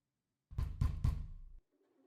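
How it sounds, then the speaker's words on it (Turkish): A door is knocked on in the horror video game Bad Parenting, three firm, evenly spaced raps ringing out loud and close, followed by a faint low tone as things go quiet. "Kapı çalıyor."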